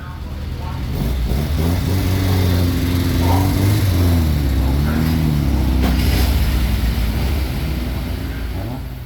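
A race car on a qualifying run at the Simola Hill Climb 2023 roars close and loud, its engine note climbing and dropping through revs and gear changes for several seconds while a voice speaks over it.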